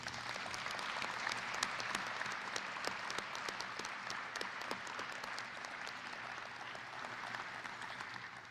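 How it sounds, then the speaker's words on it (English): Applause greets an Outstanding Faculty Award recipient at a law school commencement ceremony. The clapping is quiet and distant, a continuous even patter that runs unbroken throughout. "Please join me in giving a round of applause for this year's recipient of the Outstanding Faculty Award"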